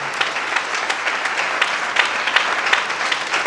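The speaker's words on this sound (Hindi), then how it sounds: "तो उसे ताली बजा के खुदा की माना करे" Church congregation clapping their hands in praise, a dense continuous patter of many hands with slightly stronger beats here and there, fairly loud and close, with no talking over it.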